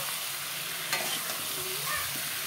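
Potatoes go into a pan of meat, cooked a different way, with a steady loud sizzle of frying and the scrape of stirring close by, one brief clatter breaking through.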